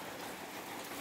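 A heavy rain downpour hisses as a dense, steady wash of drops that fills the short stretch without a break, with no voices over it.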